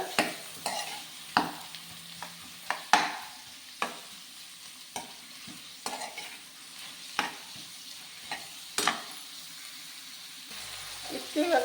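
Masala dosa potato filling fries in oil in a pan, a steady sizzle broken by repeated sharp scrapes and clatters of stirring, close up, with some talking now and then.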